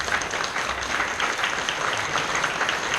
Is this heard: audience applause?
yes